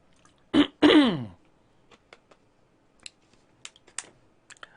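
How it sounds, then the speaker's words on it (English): A man clears his throat twice in quick succession, close and fairly loud, followed by faint scattered clicks of typing on a computer keyboard. "Gotta clear my throat and get ready."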